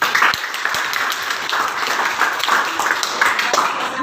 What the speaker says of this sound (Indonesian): Berikan tepuk tangan bagi kita semua.